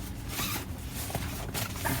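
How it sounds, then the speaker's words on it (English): A small zipper pouch that holds Tesla window covers is zipped open in a close, steady rasping pull lasting about two seconds, with no talk. "So it comes in a little zipper pouch."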